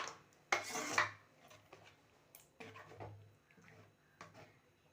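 A spoon stirring thick black urad dal kali in a pan, Tirunelveli style, heard as close scraping and rubbing strokes against the pan, with a couple of louder scrapes early on, then softer intermittent stirring and no voices.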